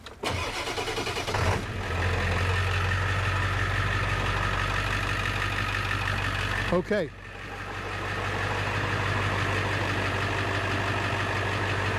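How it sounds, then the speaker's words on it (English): Ford 6.0 or 7.3 Powerstroke diesel truck engine cranking and then clattering loudly at idle, with a brief dip and restart midway and a short spoken word near the start. "So let's start the truck. Sorry about this noise in advance."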